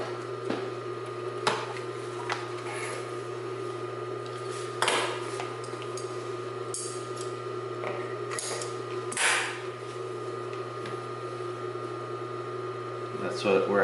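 Consew 226R industrial sewing machine stitching through four layers of Naugahyde, a steady motor hum with irregular mechanical clicks and thumps from the needle and feed, recorded close with no talk.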